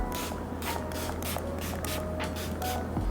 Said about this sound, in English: I'm gonna refresh my face with this Gerard Cosmetics Slay All Day Setting